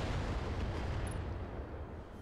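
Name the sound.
ammo explosion destroying a mech in the video game Battletech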